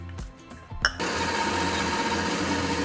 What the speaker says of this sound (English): my stand mixer, we're going to begin by whisking the egg